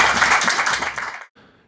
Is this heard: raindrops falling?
no